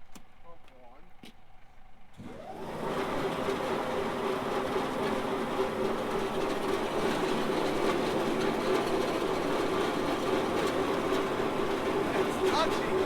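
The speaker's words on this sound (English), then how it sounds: "So let me turn the pump on." A pump on a Rock-O-Plane carnival ride starts after a couple of seconds of quiet and settles into a steady, loud mechanical hum and whir that runs continuously to the end.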